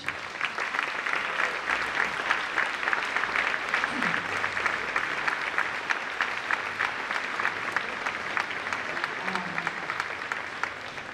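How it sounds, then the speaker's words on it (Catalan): Sustained applause from a sizable crowd at a municipal music school's end-of-year concert in Puig-reig, dense and even throughout, with a faint voice or two briefly audible beneath the clapping. "m'agradaria que els féssiu un gran aplaudiment per Ràdio Porreig i TV Porreig"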